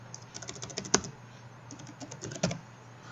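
Keys clack on a computer keyboard while a name is typed into the Unreal 4 editor, in quick close-up bursts of soft taps with a short pause between the two runs.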